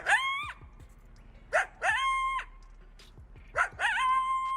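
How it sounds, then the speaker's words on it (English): Coyotes on Mount Wilson give yipping, high-pitched barks with wavering howl-like tails, several short calls in a loose sequence, moderately distant. "Coyotes do barkish howl."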